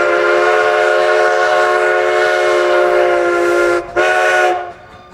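A loud train whistle blows a long steady chord nearby, breaks off briefly, sounds once more, then fades out.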